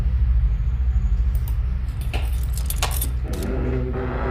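Keys jangle in The Classroom horror video game, a series of bright metallic rattles and clinks over a low droning background hum, with no speech.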